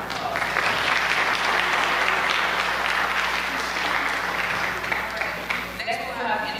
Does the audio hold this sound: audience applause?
yes